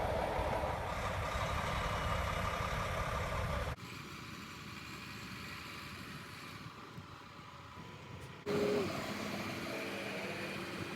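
A semi truck tractor's diesel engine rumbles low and steady at a distance while the rig is positioned to back under a trailer for coupling doubles, with a slight shift in tone partway through.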